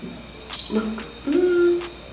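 Cool tap water splashes as a face is rinsed during a skincare routine, short close splashing bursts with a faint vocal tone mixed in.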